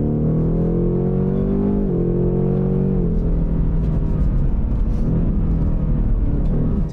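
Deep, steady V8 rumble from a Ford Mustang Mach 1, loud and close, holding a low throbbing drone that dips slightly in pitch partway through, with no speech over it.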